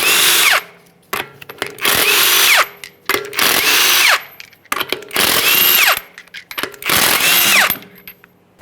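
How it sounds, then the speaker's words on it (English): Power tool spins off 22 mm lug nuts from an Acura MDX wheel, five loud close bursts of whirring rattle separated by short pauses. "go ahead and remove the wheel by removing all 5 of your 22 millimeter lug nuts"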